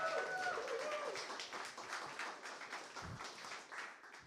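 Dense, steady crowd applause fills the whole stretch, many hands clapping at once at a fairly even loudness.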